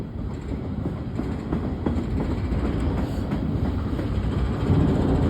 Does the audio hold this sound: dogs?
no